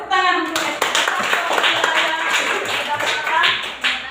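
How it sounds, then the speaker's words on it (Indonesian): A classroom claps for a student, a burst of irregular, close hand claps from a small group, with a child's and a teacher's voices briefly heard at the start and under the clapping. "tepuk tangan untuk Estin"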